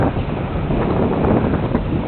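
Heavy wind roars loudly and continuously across the microphone outdoors while a ParkZone P-51 Mustang D model plane flies, a dense, unbroken rumbling buffet with no voices.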